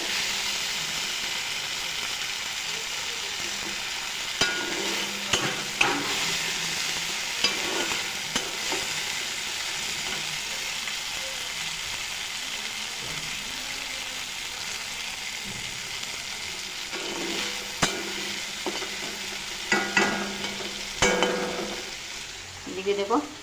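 Dried ichha shrimp fry with turmeric in hot oil in a wok, giving a steady, close sizzle broken by occasional scraping clinks of a spatula stirring against the metal.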